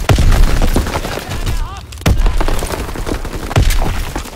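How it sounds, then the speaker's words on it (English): Enemy mortar fire in a military video game: repeated heavy booms and thuds land at irregular intervals, loud and close, with sharp cracks between and radio-style game voice callouts in the background. "Enemy mortar fire incoming."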